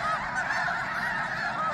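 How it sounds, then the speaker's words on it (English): A flock of snow geese honks continuously at a wildlife refuge in New Mexico, a dense, loud chorus of overlapping calls with no pauses. "Never seen so many snow geese in one place."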